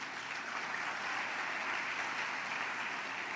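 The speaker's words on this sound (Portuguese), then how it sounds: "Dê um aplauso a Jesus." A church congregation claps together in steady, dense applause that fills the room evenly and continuously, with no voices rising above it.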